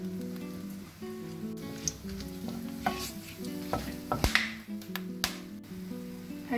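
Whole spices sizzling in hot ghee for chicken kabsa, a steady crackling fry with a few sharper pops, heard under soft background music with no talking.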